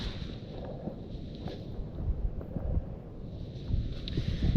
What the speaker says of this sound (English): Wind's starting to pick up here.